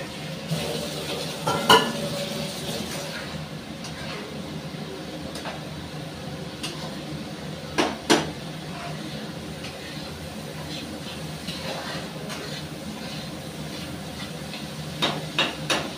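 Water goes into a pan of frying masala, giving a steady sizzle at home-kitchen level, broken by sharp clinks and scrapes of a utensil stirring against the pan.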